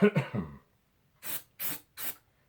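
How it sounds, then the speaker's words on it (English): Accelerator is sprayed onto a glue joint on a mandolin in three short, close hissing bursts, evenly spaced. A brief voice comes first, then quiet before the sprays. "then spray my accelerator on it and hold it for a second."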